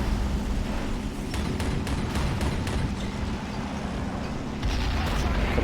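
World War II tank and artillery battle in the Stalingrad city center in Men of War: Assault Squad 2, with repeated booming cannon and gunfire bursts over a constant rumble of combat, dense and loud throughout.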